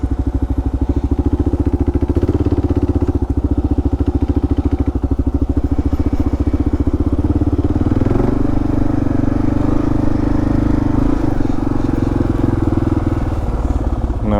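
Kawasaki KLR650 dual-sport motorcycle creeping slowly through loose sand at a washed-out riverside ramp, its single-cylinder engine giving a loud, steady low chugging thrum at low revs, close and continuous.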